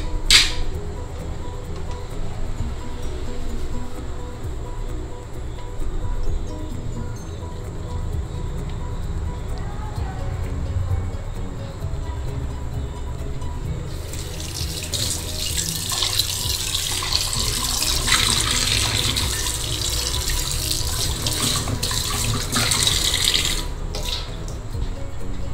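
Dissolved jaggery syrup is poured through a strainer into a pan, a steady close trickle and splash of liquid running continuously, growing brighter and louder partway through.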